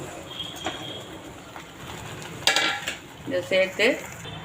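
A utensil clinks and scrapes against a cooking pan in a few quick bursts, stirring marinated soya chunks into gravy over a quiet background hum.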